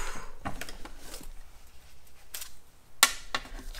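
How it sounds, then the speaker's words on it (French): A few crisp, brief snips and rustles of scissors working through paper, close by, separated by quiet pauses, with one louder sharp click near the end. "Je prends des ciseaux."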